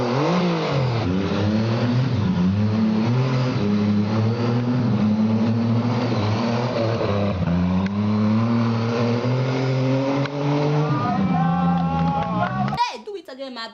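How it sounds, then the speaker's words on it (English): A race car built from recycled materials in Senegal, its engine droning and revving loudly for a long stretch with rising and falling pitch, cutting off abruptly near the end as a voice takes over. "built a car with recycled materials. And not just any car, it's a race car"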